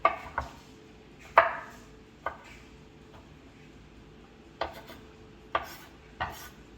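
Garlic is chopped with a knife on a board in a quiet kitchen: a handful of crisp, irregular knocks, well spaced, with soft scraping between them.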